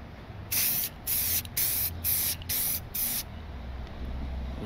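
A clear coat spray can spraying a headlight housing in six short, even hissing bursts about half a second each, close and crisp, with brief pauses between passes.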